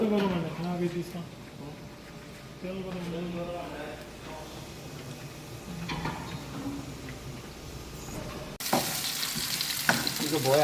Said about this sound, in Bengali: তো আলু ভাজি ফ্রেঞ্চ ফ্রাই করতেছ